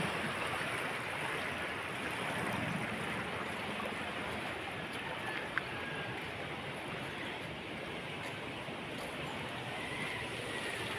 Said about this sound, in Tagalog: may baha.